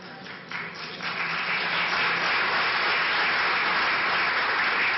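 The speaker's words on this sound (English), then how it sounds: "worst applause I have gotten in my entire life" Soft, sustained applause from an audience at a talk, a dense even wash of many hands clapping that rises within the first second and holds steady, moderately loud and without voices.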